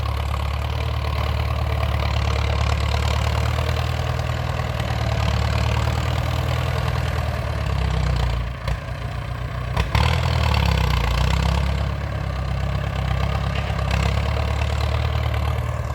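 A Ford 6610 tractor engine idles steadily and loudly for the whole stretch, a continuous low rumble with a brief dip in the middle before it settles back to the same even idle.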